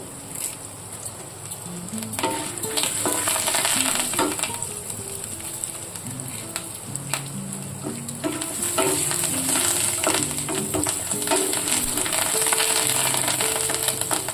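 Green and dry red chillies with curry leaves frying in hot oil for pulihora, a loud continuous sizzle with bubbling crackle throughout, and soft stirring tones underneath, no voices.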